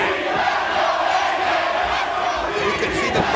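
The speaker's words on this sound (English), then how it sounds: "You can see the crowd right now screaming, "Let's go, AJ!"" Wrestling arena crowd at a match between Styles and Williams, a dense, steady roar of chanting and screaming fans filling the whole stretch without a break.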